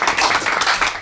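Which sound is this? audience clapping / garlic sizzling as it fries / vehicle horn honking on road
audience clapping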